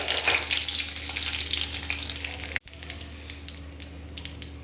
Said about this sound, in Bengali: এখানে আমি ফোড়নে দিয়ে দেব তেজপাতা আর এই গোটা গরম মশলা